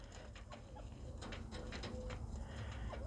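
Chirping and clucking of bobwhite quail, several short calls scattered over a steady outdoor background, close by.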